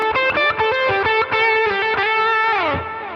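Electric guitar through a Line 6 Helix Horizon Drive pedal cranked to full gain, a bright, spitty distorted riff of quick chopped chords and sustained notes that slide down and fade at the end.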